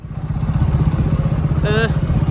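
A motorcycle rides along a road in Kavaratti, Lakshadweep, its engine chugging in a close, pulsing rumble throughout, with a brief higher tonal chirp midway.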